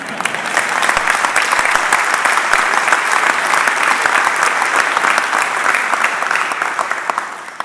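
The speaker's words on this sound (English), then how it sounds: "Yes, I know some of you want to clap." A large crowd at the Ohio State University State of the University address breaks into loud, sustained applause, a thick wash of clapping that holds evenly for several seconds and then eases off.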